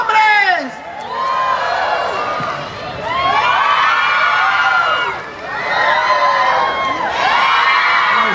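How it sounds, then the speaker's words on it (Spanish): A comedy show audience of children and adults roars in loud, high-pitched cheering, whooping and shouting for the men, in swelling bursts that rise and fall several times. "¿cuál es el aplauso para los hombres?"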